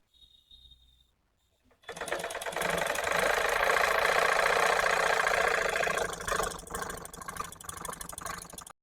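A sewing machine stitching with a tightened bobbin-case screw starts up after a quiet moment and runs in a loud, fast, steady mechanical chatter close by, easing off slightly toward the end.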